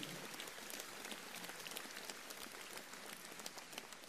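Audience applause for municipal staff at a New Year's greetings ceremony in La Grande Motte, a steady dense patter of many hands, faint and distant, continuing evenly throughout.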